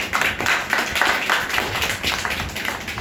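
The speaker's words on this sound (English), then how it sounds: "Such a fantastic presentation and clapping for them" Audience clapping after a group presentation, a steady patter of many hands filling the room at an even level for a few seconds, with no voices over it.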